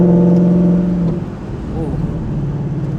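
A Dodge Charger Scat Pack widebody engine rumbles loudly and close, with a steady low drone that shifts in pitch after the first second and then turns rougher. Rain is falling during the drive.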